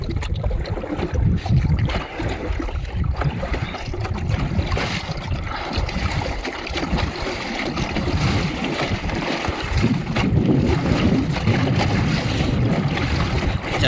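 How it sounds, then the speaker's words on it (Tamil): A round coracle being paddled across water, with steady broadband splashing and wash from the paddle that holds close and continuous throughout, no voices heard. "இப்போ நம்ம வந்து பரிசல் ஓட்ட போகிறோம்"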